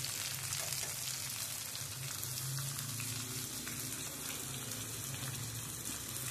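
Beans and capsicum sautéing with onion in a pan, a soft continuous sizzle with faint stirring scrapes, steady and quiet throughout with no talking.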